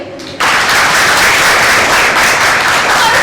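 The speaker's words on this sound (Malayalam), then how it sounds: "നമുക്ക് വേണ്ടിയിട്ട് ഒരു നല്ല കൈയടി" An audience of young people at a training programme breaks into loud, sustained clapping after a brief quiet moment, filling the hall right up close.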